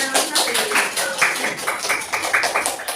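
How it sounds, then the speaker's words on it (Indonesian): A classroom group claps for a discussion group, with a steady run of overlapping hand claps lasting the whole stretch at moderate loudness and a voice speaking over it. "Tepuk tangan untuk kelompoknya"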